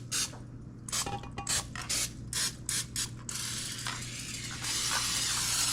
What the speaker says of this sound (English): We're going to spray down the pan and the sides.